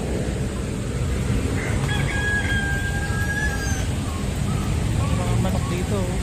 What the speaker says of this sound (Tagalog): Manok dito.